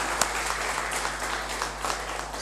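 An audience at a GST conclave claps steadily to welcome a guest, a dense, even wash of applause filling the whole stretch without pause.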